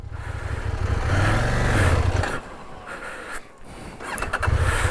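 A CF Moto 800MT motorcycle engine revs hard and holds high in first gear, dipping briefly before climbing again, loud and close, on a muddy off-road track.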